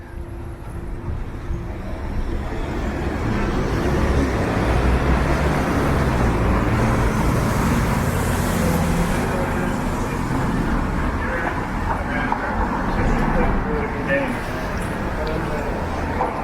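City street traffic, a continuous dense roar of passing cars and buses, steady and fairly loud, with a person talking over it.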